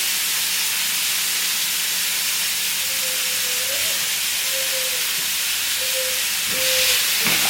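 Onions and peppers sizzling in a pan for shakshuka, a steady, loud frying hiss throughout, with a few faint tonal whistles partway through and a brief clatter near the end.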